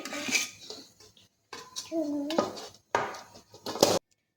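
Close, bright clinks and scrapes of utensils against a plate come in short bursts as cut khaman is served, with a voice faintly in the background.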